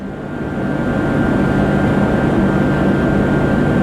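Blower on a cotton harvester running at full speed, a loud, steady, dense roar with a constant whine that swells slightly at the start and then holds without a break.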